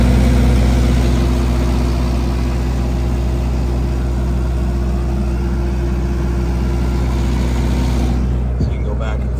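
A 2007 Terex T45 generator's engine idles with a steady, low, even drone, close and continuous throughout, with a brief knock near the end and no talk.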